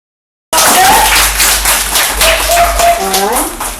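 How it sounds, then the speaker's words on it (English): Clapping breaks out suddenly from a group at a children's camp career day, a fairly loud, close burst of hands, with voices speaking over it. "give him a clap"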